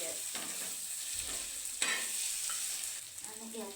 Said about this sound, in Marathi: कमी गॅस करायचा ही मस्त भुजायचं.